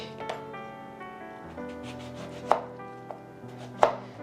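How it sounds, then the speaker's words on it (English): A knife cuts through oranges on a board, trimming ends and slicing rounds about a quarter inch thick, giving a few distinct chopping knocks over a quiet room with a faint steady tonal hum. "So I'm just gonna cut the ends off first. Then we'll slice them to about a 1/4 inch thick."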